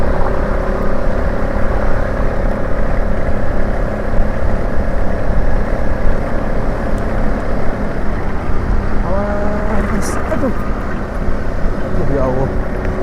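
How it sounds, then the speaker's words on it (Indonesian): Steady roar of motorcycle and car traffic heard from a moving bike on a night ride, broadband and continuous throughout, with a passing horn-like tonal sweep near the end; a voice talks over it. "Walaupun suara kendaraan sama mobil masih cukup jelas."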